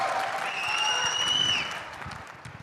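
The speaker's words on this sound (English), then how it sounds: "the loudest claps have to come" Applause from a large event audience at a forum in Riyadh, a dense wash of clapping that swells and then fades, with a sustained whistle-like tone over it for about a second.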